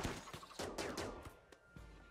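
Bursts of gunfire in a RimWorld battle, several sharp cracks fired in quick succession at an uneven rhythm, loud and close, with no talk.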